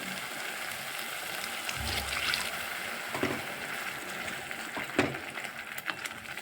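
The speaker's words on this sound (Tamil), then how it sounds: "நான் வந்து கொஞ்சமாக தண்ணி சேர்த்துக்கிறேன்" A little water is poured into simmering Karaikudi-style spicy chutney. The result is a soft, hissing bubbling with faint splashes and a few sharper sizzles.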